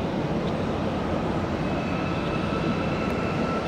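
An executive business jet on the runway at Tampa airport roars with a steady, broadband engine rumble heard from a distance, continuous and unbroken throughout with no talking.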